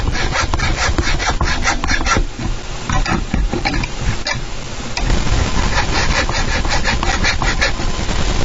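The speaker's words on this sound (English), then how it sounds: "So I'm only hacksawing the ends." Loud, close back-and-forth strokes of a hacksaw cutting through metal, rhythmic and continuous with a brief pause partway.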